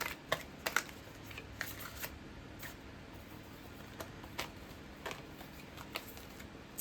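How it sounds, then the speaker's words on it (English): Tarot cards being shuffled by hand, quiet close-up riffles and soft slaps in irregular bursts, with no talking. "If you guys want to fast forward through the shuffling, feel free to do so."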